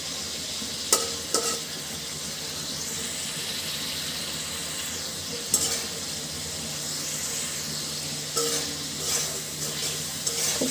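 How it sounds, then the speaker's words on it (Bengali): Spice paste sautéing in oil for a fish curry with winter vegetables, a steady hiss of frying punctuated by several sharp scrapes and clanks of a spatula against the pan. "আমি মশলাটা কষিয়ে নিচ্ছি খুব অল্প করে।"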